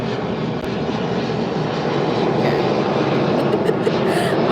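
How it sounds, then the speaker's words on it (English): A low-flying airplane passes overhead outdoors, its engine roar loud and steady throughout with a broadband rumble that swells slightly toward the end. "that plane is a little low."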